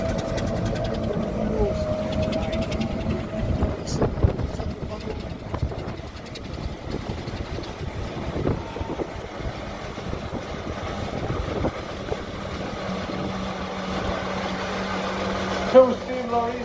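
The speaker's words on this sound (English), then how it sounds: "the Johnny and Val's steam engine from Bellingham" A vintage steam engine from Bellingham works at an outdoor steam fair in the Tyne Valley, a low steady mechanical chugging and hum running throughout under crowd noise and some voices, with a brief sharp knock near the end.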